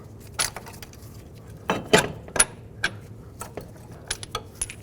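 Metal clinks and rattles close by as bolts are removed from the front strut and steering knuckle of a 2002–06 Toyota Camry. Sharp taps and jingles are scattered over a quiet garage background with no talking.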